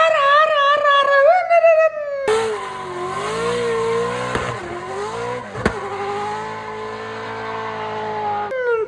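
A voice mimics a Toyota race truck's engine, revving up, dropping and climbing again as if shifting through gears, loud and close with a few sharp breaks between pitches.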